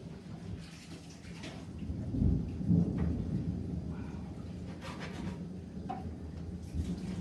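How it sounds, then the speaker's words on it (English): Thunder rumbles low and rolling through a storm with light rain, a deep swelling boom in the middle over a steady background wash, moderately loud, heard indoors. "It is a storm."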